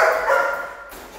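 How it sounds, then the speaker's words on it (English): A dog lets out a single drawn-out, whining bark during a board-and-train session, close and fairly loud, fading away within about a second. "I'm intentionally videoing while Brandy's barking"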